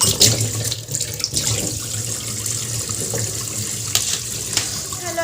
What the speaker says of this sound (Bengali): ঢাকাটা একটুখানি ধুয়ে নেবো